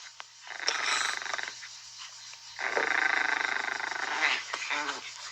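Dogs growl and snarl in long, rough, sustained rumbles close by, with two extended bouts separated by a short pause.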